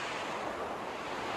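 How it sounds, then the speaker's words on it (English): Strong tropical storm wind blowing steadily, a dense continuous broadband roar with surf-like rushing, loud and unbroken throughout with no talk. "This is like the most wind we've ever seen here."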